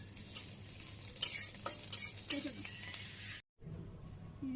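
Onion and ginger paste frying in a pan for Bangladeshi village-style masoor lentil dal, a soft steady sizzle with a few sharp spoon scrapes and clinks against the pot, close by, pausing briefly near the end before resuming.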